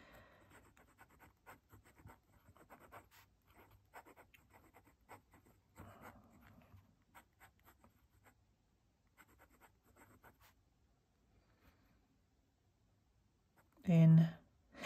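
Pen writing on paper, quiet scratchy strokes in short irregular bursts over about ten seconds, close and soft, then a brief louder thump near the end.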